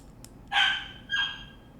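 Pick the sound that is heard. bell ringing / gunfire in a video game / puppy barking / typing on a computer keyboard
puppy barking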